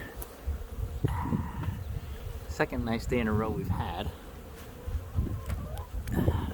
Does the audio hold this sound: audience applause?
no